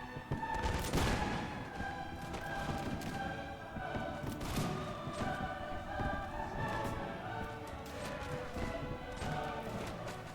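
Musket volleys from massed light infantry firing at will in a Mount & Blade Warband Napoleonic battle, loud overlapping cracks and booms repeating throughout, with battlefield rumble and a voice now and then.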